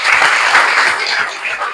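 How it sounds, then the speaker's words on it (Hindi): An audience applauding to welcome a guest at an alumni meet, a dense, loud burst of many hands clapping close by, steady throughout. "जोरदार तालियों से स्वागत कीजिएगा"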